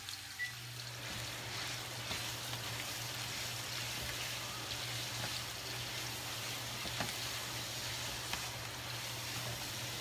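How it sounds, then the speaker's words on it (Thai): Food stir-fried in a pan in a home kitchen, giving a steady, continuous sizzle and hiss with a low steady hum underneath, with no talking. "ผัดไปเรื่อย ๆ นะคะ"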